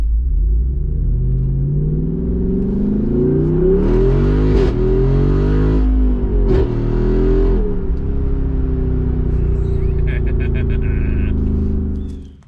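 Jeep Wrangler 392 V8 with AWE exhaust, valves open, revving hard: deep loud blips rise and fall twice in quick succession, then settle into a throaty idle.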